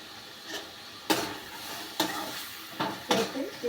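Pieces of brinjal are stirred and sautéed in hot oil in a pan, with a soft continuous sizzle broken by four or five sharp spatula scrapes at irregular intervals, close and fairly quiet.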